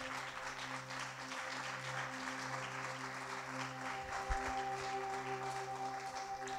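A church congregation on its feet applauding to praise God, a steady spread of clapping heard from a distance, with low sustained tones humming underneath and a single thump partway through.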